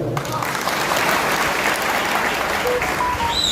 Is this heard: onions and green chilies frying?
no